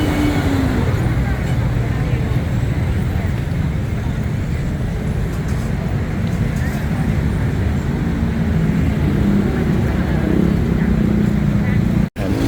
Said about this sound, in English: Plenty of traffic, 10 o'clock at night.